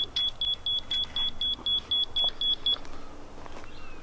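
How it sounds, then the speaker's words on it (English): A level receiver emits rapid, evenly spaced electronic beeps about a dozen times, then stops, leaving a faint steady tone over outdoor background noise. "it just went from that really fast beep to that more of a steady beep"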